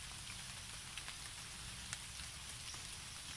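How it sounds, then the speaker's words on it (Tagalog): Rain falling in a rural countryside setting, a steady faint hiss of drops on surfaces with a few louder taps, continuous and even throughout, no voices. "Ulan."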